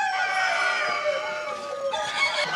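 A competing cock crows at a Belgian cock-crowing contest, one long harmonic crow held for nearly two seconds, then a shorter second call, close and loud against a quiet hall.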